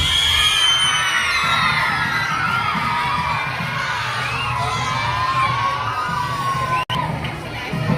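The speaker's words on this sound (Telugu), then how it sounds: "Please Bigg round of applause." A crowd of children at a school annual day cheers, shouts and claps in a loud, sustained roar, with high whoops rising over the din and one sharp bang near the end.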